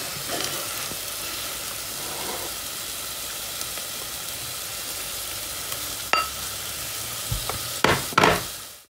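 Onions frying in coconut oil inside a pot give a steady close sizzle that runs throughout, with a few sharper crackles and pops toward the end.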